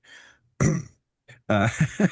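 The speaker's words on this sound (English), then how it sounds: "started coughing." A person clears their throat and gives a short cough, close by, with brief pauses in between.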